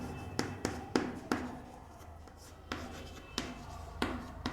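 Marker or chalk writing on a board in a classroom lesson, a series of sharp taps and short scratchy strokes spaced irregularly, close and fairly quiet, with no voices during the strokes.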